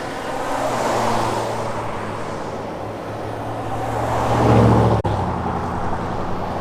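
Cars released from a left turn lane at a green light pass close by on a Montana road one after another, a loud continuous traffic roar that swells as they approach and then ends in a sharp click near the end.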